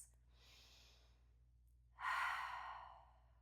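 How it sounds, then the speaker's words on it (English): Slow, deep yoga breaths close to the mic: a soft, long exhale, a pause, then a louder, fuller breath that fades away, with no talking. "Take 3 more breaths."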